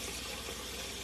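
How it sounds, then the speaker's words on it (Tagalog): A cup of water pours into a cooking pot in preparation for boiling galunggong fish, a steady close splashing rush that fills the whole short moment. "Lagyan natin ng 1 cup na tubig."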